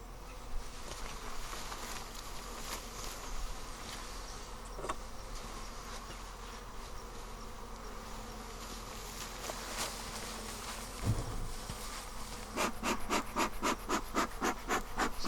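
Honey bees hum and buzz around an open hive, a close, continuous drone with individual bees zipping past the microphone and a pulsing burst of agitated buzzing near the end.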